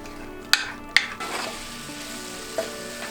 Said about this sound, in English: I diced a red onion and started it over medium heat. Cast iron is always better.